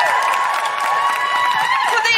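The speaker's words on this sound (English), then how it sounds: "Huge round of applause for the Gotto gang." Live comedy podcast audience at the Edinburgh Fringe clapping and cheering for performers, a continuous wash of applause with loud vocal whoops and cries over it.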